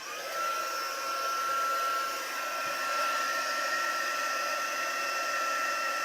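Heat tool blowing steadily while heat-setting embossing on a handmade card, a continuous airy whir running loud and unbroken from start to end.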